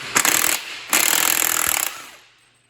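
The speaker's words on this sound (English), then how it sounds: "We'll put this new DeWalt impact down on him and see what she goes." A new DeWalt impact wrench hammers at a stubborn bolt on an Allis Chalmers D17 tractor during clutch and engine disassembly. Two loud, close bursts of rapid rattling impacts are separated by a short pause, then the sound trails off.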